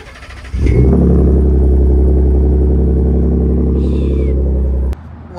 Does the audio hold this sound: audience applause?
no